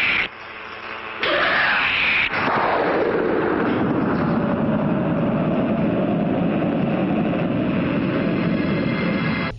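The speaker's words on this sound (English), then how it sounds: "And a glorious explosion." A huge explosion from the film Nightbeast, where an alien blows up, bursts in suddenly and rolls into a long, loud, booming rumble that slowly thins out.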